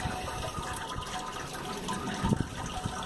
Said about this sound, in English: we'll let it drain down a bit first until we know how far down the grain bed is